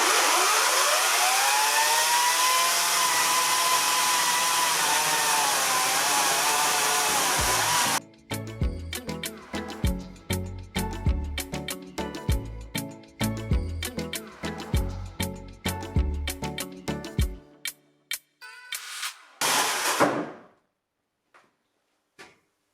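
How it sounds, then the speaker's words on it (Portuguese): Parkside PKSA 40 Li A1 cordless chainsaw winds up to a steady high whine, then chews through wood in a long run of rapid, uneven bursts before cutting off, close and loud. "Vamos então pô-la em funcionamento. Vou deixá-la atingir a velocidade máxima, só depois vou iniciar o corte."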